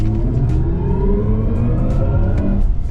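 BMW iX M60 electric SUV accelerating hard, giving off a continuous synthetic electronic drive sound that sweeps upward in pitch with rising road and motor noise, loud and steady with no talk.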